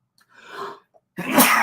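A sharp indoor sneeze preceded by a short inhaling buildup, loud and close, with no talking.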